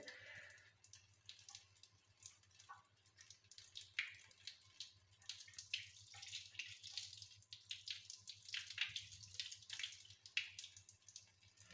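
Water splashes and trickles softly as hands are rubbed and rinsed, with small drips and sloshes throughout, fairly quiet and close.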